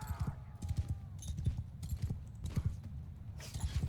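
Cavalry hooves thud in Mount & Blade 2: Bannerlord as many horses clip-clop rapidly and continuously at close range. The galloping rhythm is heavy and uneven, with faint battle noise underneath.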